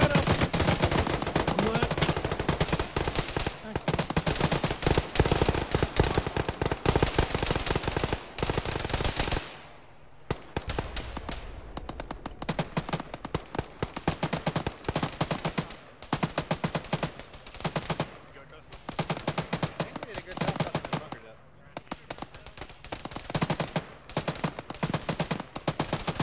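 Sustained machine gun fire in the Arma military game during a beach assault, long loud bursts of rapid shots with a brief lull, dense and close throughout.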